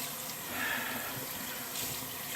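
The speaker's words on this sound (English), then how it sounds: "Rinse this brush out." A shaving brush is rinsed under a running tap, a steady close hiss of flowing water with soft splashing throughout.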